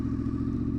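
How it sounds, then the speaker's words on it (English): Motorcycle engine pulling away under light throttle at about 2000 RPM, a steady close low-pitched drone with a faint rhythmic pulse and no talk. "Clutch out, find the binding point, apply a bit of throttle so the bike's not going to stall"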